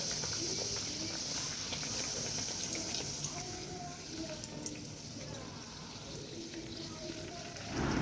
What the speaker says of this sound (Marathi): तेलात टाकून तळून घेऊया चांगले प्रकारे तळून घेत आहोत